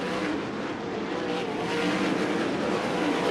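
USAC sprint cars roar around a dirt track in a steady, continuous engine drone, heard from a distance without any break.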